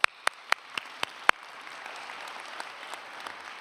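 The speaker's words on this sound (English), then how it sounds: "Please give yourself a round of applause." Applause from a graduating dental medicine class at a 2023 convocation ceremony. A few sharp, separate claps open it, then the clapping thins to a soft, scattered patter from a room full of people.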